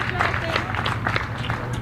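Crowd applause at a Legion baseball game as a player heads off the field, a thin, scattered clapping from a small outdoor crowd, fairly distant, with a commentator's voice over it.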